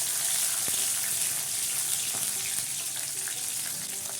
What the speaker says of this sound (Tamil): கடுகு, கருவேப்பிலை, பச்சை மிளகாய் தாளிச்சிக்கோங்க.